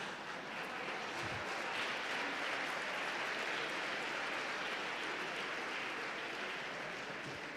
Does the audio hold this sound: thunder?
no